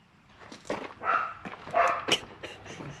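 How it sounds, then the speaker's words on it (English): A dog barks several times in short, close bursts with some whimpering yips, fairly loud against a quiet background near a Mazda B2000 ute being repaired. "My dog is chasing something."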